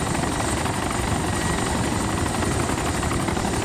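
A helicopter in the video game DayZ Origins gives a loud, continuous rotor drone with steady chopping and engine whine throughout, with no speech over it.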